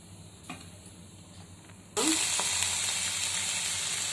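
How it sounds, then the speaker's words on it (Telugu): Sliced ivy gourd pieces dropped into hot oil in a pan, a sudden loud sizzle that bursts in halfway through and holds steady, after quieter clinks and kitchen noise, with no talk. "ఇప్పుడు దొండకాయ ముక్కలు కూడా వేసి బాగా ఫ్రై చేసుకుందాం."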